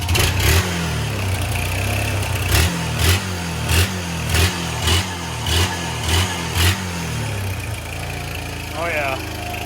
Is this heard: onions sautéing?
no